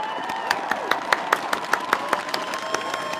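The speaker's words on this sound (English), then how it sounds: "Golf clap." A single person's slow golf clap of sparse, evenly spaced hand claps, about five per second, steady and moderately close, at a presidential inauguration as the 46th President of the United States is introduced.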